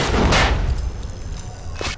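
Gunfire in the video game Bioshock: two sharp, heavy shots about a second and a half apart, loud and close, with a booming tail between them.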